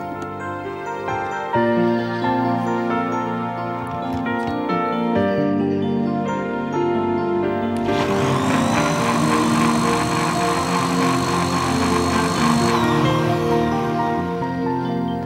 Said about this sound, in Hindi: और इसको फिर मिक्सी में चला दें।